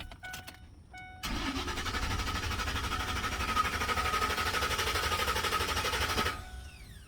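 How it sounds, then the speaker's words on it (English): The starter on a 2009–2014 Ford F-150 turns the engine over in one continuous whirring crank of about five seconds without catching, heard close and alone after a few brief clicks. "Crank but no start."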